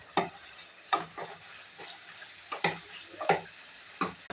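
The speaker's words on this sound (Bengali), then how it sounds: "একটু সামান্য লবণ দেব, একটু হলুদ দিয়ে ভেজে নেব" Soybean chunks frying in a kadai with salt and turmeric, soft sizzling under repeated sharp stirring scrapes and clinks at an irregular pace, quiet and close with no talk.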